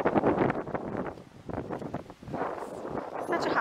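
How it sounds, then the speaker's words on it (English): Strong outdoor wind buffets the microphone in loud, uneven gusts of low rumbling noise, rising and falling throughout. "it's really windy."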